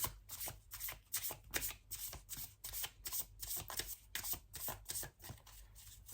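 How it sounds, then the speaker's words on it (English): Tarot cards shuffled by hand before one is pulled for a love reading, a steady run of riffling, slapping bursts, close and fairly loud with no talk. "So let me pull one card for the Justice."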